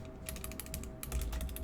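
Rapid keystrokes on a computer keyboard during C# coding, a steady run of light clicks with brief pauses, close and fairly quiet.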